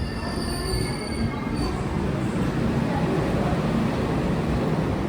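A train moves at a railway station beside a Humsafar coach, with a loud, steady rumble of rolling wheels and a high metallic squeal throughout.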